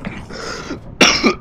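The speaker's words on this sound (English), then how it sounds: "I'm coughing" A person playing Minecraft coughs close to the microphone, with two short, rough bursts separated by a brief pause.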